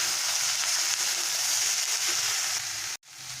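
Vegetables tossed with turmeric powder in a hot frying pan give a steady, close sizzle and hiss with faint stirring scrapes, cutting out abruptly near the end.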